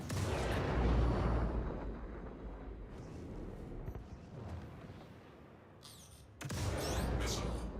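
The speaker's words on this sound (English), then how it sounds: "Missile." A missile launch in a video game sounds as a heavy, rumbling roar that swells loud, fades into a sustained whoosh, then cuts back in with another loud burst near the end.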